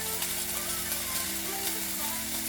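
Tomatoes frying in oil seasoned with Maggi, chili and pepper give a steady, close sizzle that holds evenly throughout, with a low background hum beneath it.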